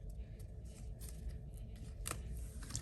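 Small paper-craft scissors snip paper branch pieces off a handmade card, producing a few soft, close crisp snips over a low steady background hum.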